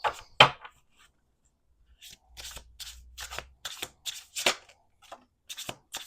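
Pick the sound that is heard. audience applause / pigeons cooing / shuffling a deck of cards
shuffling a deck of cards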